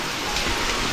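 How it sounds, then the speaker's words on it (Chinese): Heavy rain pours down just outside a cave, a constant broadband hiss with no letup, fairly loud and close. "这里能看到外面在下大雨啊"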